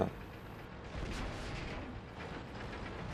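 Repeated heavy tank cannon booms in a World of Tanks-style battle with a T-44, dense and rumbling with little gap between shots, over a constant low roar.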